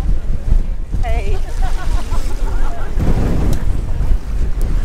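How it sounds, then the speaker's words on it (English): Strong gusting wind buffets the microphone at Elafonisi Beach in Crete, a loud continuous roar with surf rumbling underneath and a voice talking briefly through it. "the wind has certainly picked up here even more"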